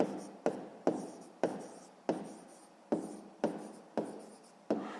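Handwriting on paper, a series of about nine short scratchy pen strokes, each starting sharply and fading, spaced unevenly and close by in a quiet room.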